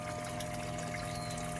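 Water runs steadily through a homemade 5-gallon bucket filter into a 50-gallon duck pond, a continuous trickling and pouring over a low pump hum, no voices.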